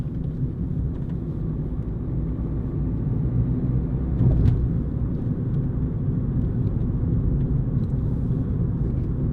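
A big old American car rumbles past nearby, its low engine roar swelling midway and then easing off over a constant background drone.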